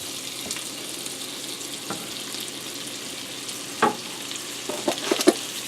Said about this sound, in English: Stir it up nicely.